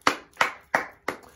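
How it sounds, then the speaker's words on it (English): Four sharp hand claps in a slow, even rhythm, close and fairly loud, each with a short decay, no talking over them. "Cameraman, can we get that round of applause, bro?"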